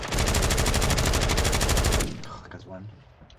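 Sustained automatic gunfire in the Call of Duty Warzone video game on Rebirth Island, a dense rapid burst lasting about two seconds before cutting off to quieter game sounds.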